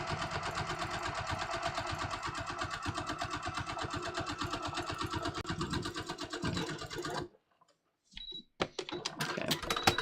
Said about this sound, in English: I'm going to sew it a little bit closer to the end over here